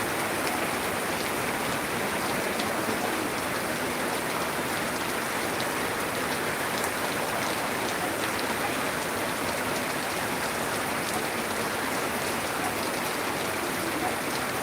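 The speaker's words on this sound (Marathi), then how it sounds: "हां अजून जास्त पाऊस वाढलेला आहे" Heavy rain pours down steadily on a farm during brinjal picking, a dense, continuous hiss of drops drumming on surfaces that stays loud and even throughout with no voices.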